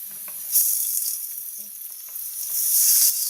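Garlic ginger paste frying over low heat with light-browned onions in a pan for a capsicum chicken curry, a steady close sizzle with soft stirring scrapes and brief surges of crackle.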